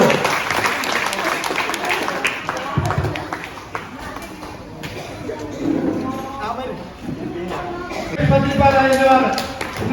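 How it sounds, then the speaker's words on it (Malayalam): Audience applause at an Onam celebration held at a day-care home for people with disabilities, a crowd clapping loudly and steadily for several seconds, mixed with voices and a livestock-like lowing, with speech over the top. "നമുക്ക് ഒരു ഊഷ്മളമായ കയ്യടി കൊടുക്കാം"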